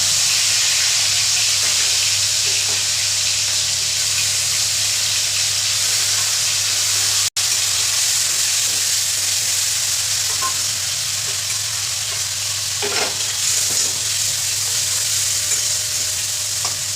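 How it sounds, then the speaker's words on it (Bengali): Prawns coated in salt and turmeric frying lightly in a hot wok, a loud, steady, close sizzle and hiss lasting throughout with a few faint stirring scrapes. "এবার নুন হলুদ মাখিয়ে হালকা করে ভেজে নেব।"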